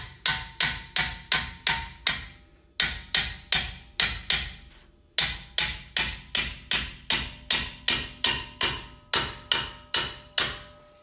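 Repeated hammer whacks on a steel ball joint while knocking it loose from the upper control arm of a 2000 Nissan Frontier, loud metallic blows in fast bursts of five or six with short pauses, ringing briefly after each hit.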